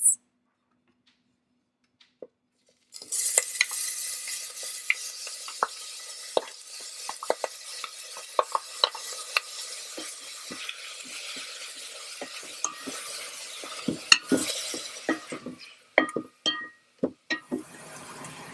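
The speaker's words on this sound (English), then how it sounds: "So now we're going to add our onion and garlic and we're going to saute that for 2 to 3 minutes." Onion and garlic sauté in sesame oil inside an Instant Pot, giving a steady soft sizzle with repeated utensil scrapes and stirring clicks, close and fairly quiet, with no talking.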